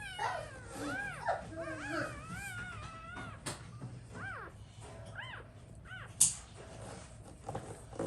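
Newborn puppies from a litter of fourteen delivered by C-section whimper and squeal in repeated high, wavering cries, close by and overlapping, with a few sharper yips and rustling underneath.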